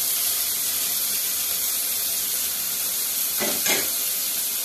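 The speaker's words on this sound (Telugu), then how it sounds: "ఉప్పు వేసుకొని మంచిగా కలుపుకోవాలి." Okra fry tossed with salt in a pan for a Telugu bendakaya fry, a steady close sizzle and hiss throughout with a brief scraping stir near the end.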